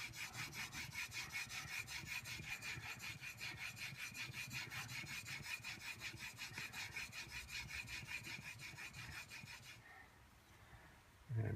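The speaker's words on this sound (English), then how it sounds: "if we take this over to a 1000 grit stone," A steel plane blade in a Veritas Mk.II narrow-blade honing guide rubs back and forth across a 1000 grit sharpening stone in steady, close, rhythmic strokes, the scraping ending just before the clip closes.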